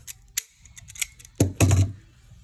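Scissors snip off the excess tail of a zip tie on a ribbon Easter bow. Small sharp clicks and handling noises come first, then two close crisp cuts.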